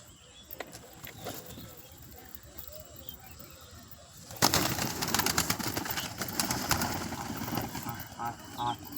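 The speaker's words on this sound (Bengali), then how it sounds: "তো এখন পায়রা খেতে দিচ্ছি" Pet pigeons cooing softly at feeding time, quiet coos at first, then a louder burst of wing flaps and scuffling as the birds crowd in, with a person speaking now and then.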